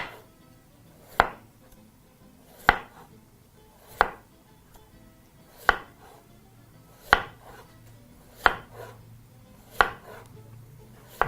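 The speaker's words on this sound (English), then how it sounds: "all you're going to do now is proceed to slice very," Knife slicing a potato very thinly on a cutting board for a potato bake, seven sharp, evenly spaced chops about every 1.5 seconds, close and clear with no talking.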